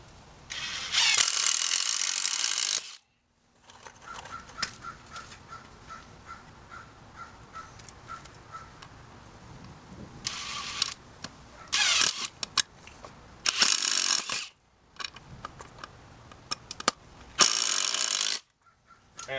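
A power drill drives a stubborn screw into wood while a DIY target stand is built, with repeated loud whirring bursts broken by pauses and ratcheting clicks, close by.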